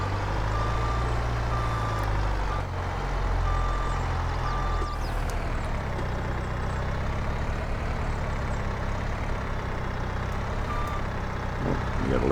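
A skid steer drives in Farm Simulator 22, its heavy engine rumbling steadily while intermittent reversing beeps sound over it and the engine pitch swells and falls.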